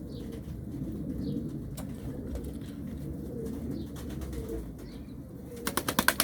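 Old pigeons, several of them four to nine years of age, coo repeatedly in a loft, with soft rolling calls over steady background noise and a burst of wing flapping near the end.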